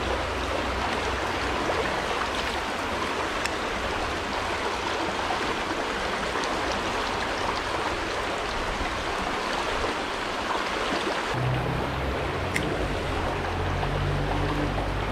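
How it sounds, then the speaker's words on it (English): Soco Creek, a mountain creek near Cherokee, North Carolina, rushes with a constant, close wash of flowing water; a deeper rumble joins in near the end, and no one speaks. "And this water here, this is SoCo Creek."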